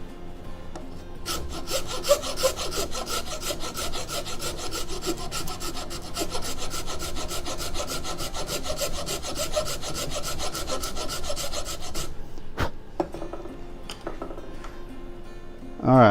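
A half-round file rasps steadily across a vihuela part clamped in a vise, with rapid, even strokes for about twelve seconds, then a few isolated scrapes and knocks that trail off into quiet.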